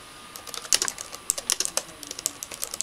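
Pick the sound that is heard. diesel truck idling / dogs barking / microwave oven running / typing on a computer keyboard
typing on a computer keyboard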